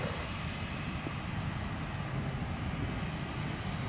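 An airplane at Montego Bay airport in Jamaica roars steadily in the rain, a continuous broadband engine rumble with a rain hiss blending underneath.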